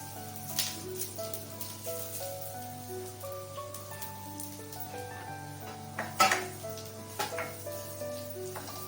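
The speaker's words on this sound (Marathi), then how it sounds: "आता हे अर्धा कप धणी टाकतो त्याच्यामध्ये त्याला आपण भाजून घेऊया" Half a cup of coriander seeds roasts in oil in a pan over a low flame, giving a soft, steady sizzle with occasional scrapes and stirring clatter against the pan.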